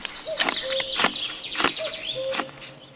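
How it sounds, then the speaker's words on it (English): A female goldeneye duck at a Nordic forest stopover gives several short, sharp calls mixed with brief rustling bursts. The calls are close and moderately loud, with no talking. "A female golden-eyed duck."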